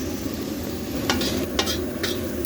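Onion frying on an electric heater while khichuri is cooked, a steady close sizzle with a few brief scraping stirs on top.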